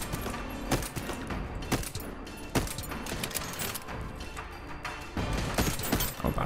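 Repeated shotgun blasts and gunfire in the video game Voidtrain, a dense, loud barrage of sharp bangs with crashing impacts running steadily throughout.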